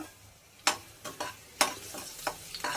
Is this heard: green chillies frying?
yes